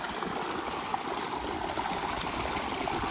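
A steady, loud rush of water carrying sand and silt gushes continuously from a tube well motor pipe, with a constant splashing hiss throughout.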